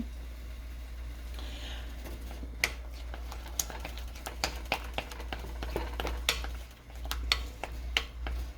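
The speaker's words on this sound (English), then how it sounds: "you just want to stir it until it is melted" Chocolate pieces being stirred until melted for homemade truffles, giving repeated light scraping and ticking taps of a utensil against the bowl, fairly close, over a steady low hum.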